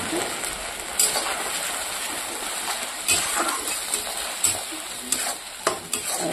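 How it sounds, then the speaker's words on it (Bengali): A spice paste of onion, garlic, ginger, chili and cumin frying with browned onions in a pan, sizzling steadily while a spatula stirs it in regular scraping strokes, close by. "এবার এটাকে মশলাটাকে ভালো করে কষিয়ে নিতে হবে"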